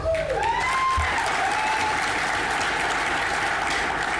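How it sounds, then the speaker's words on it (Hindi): An audience at a Netsurf company event in Hyderabad gives a loud, sustained round of clapping that keeps an even density throughout, with no speech over it. "इस साल के सक्सेस के लिए फिर एक बार आप सभी के लिए जोरदार तालियां"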